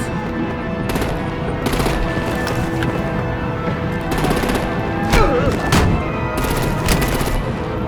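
Gunfire crackles in a Batman game as artillery opens up on vehicles: repeated sharp shots and bursts over a dense, steady battle rumble, loud and continuous across the scene.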